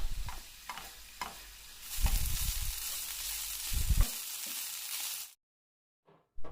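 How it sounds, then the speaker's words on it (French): Half an onion and meat frying in vegetable oil in a pan give a bright, steady sizzle with occasional stirring scrapes, close and alone, then a sudden cut to near silence with a short clatter at the end. "Dans une poêle, je fais revenir un demi-oignon dans l'huile végétale."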